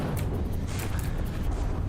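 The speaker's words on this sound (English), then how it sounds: "Here we can see more big explosions going on there." Big explosions rumble on and on in the naval combat game From the Depths, a dense, continuous low-end roar of blasts with no clear gaps between them.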